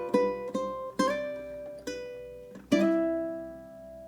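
Ukulele plays a bar of Queen's Bohemian Rhapsody: several plucked and strummed chords ringing out one after another, close and clear with decaying sustain, unaccompanied and without talk.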